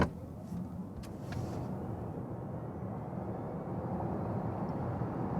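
A VW ID.4 Pro 4Motion electric car accelerates hard in sport mode, heard from inside as a steady low road and motor rumble that swells slightly over a few seconds, with no talking.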